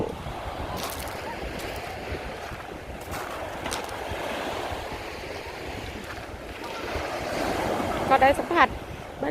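Sea waves wash steadily onto an English beach with wind rushing across the microphone, a continuous roar that swells slightly near the end.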